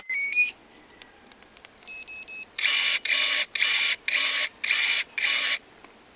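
ABS H40-5SP cordless pruning shears running on a Craftsman battery: a few electronic beeps, then five regular bursts of high-pitched motor whir with brief gaps between them, close and loud.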